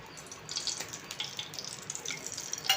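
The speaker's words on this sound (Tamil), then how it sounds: "இப்போ இதில் 1 ஸ்பூன் நெய் ஊற்றிவிடும்" A thin stream of ghee trickles and drips softly into a pan, faint and close, with no one talking.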